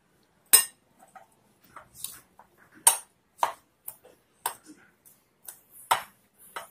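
Avial ingredients with turmeric powder, crushed garlic and shallots are mixed in a pot, heard as sparse, sharp metallic clinks and knocks of a spoon against the vessel, irregularly spaced with quiet gaps between.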